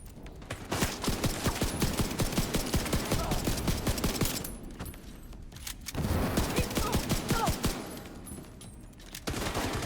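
Rapid volleys of video game gunfire crackle in dense, clattering bursts, pausing briefly before resuming, loud and close, with a voice talking at times over the shooting.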